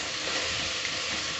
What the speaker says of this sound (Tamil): நல்லா ஒரு 2 மினிட்ஸ்க்கு வதக்கிக்கோங்க.